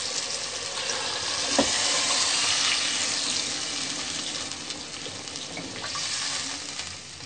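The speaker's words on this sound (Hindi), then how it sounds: "अब हम इसमें 2 गिलास के करीब पानी डालेंगे।" Water poured into a pan of frying potatoes and peas hisses and sizzles loudly, a continuous close splashing roar that swells as it is stirred and then eases slightly.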